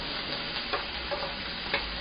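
Abalone stir-fries in butter in a pan with onion and pepper for a Japanese-style butter-grilled dish, giving a soft, steady sizzle broken by a few light stirring taps and scrapes.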